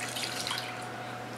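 Water pours into cupcake batter in a home kitchen with a short, soft, steady trickle and splash that lasts about a second and a half, quiet and close with no talking.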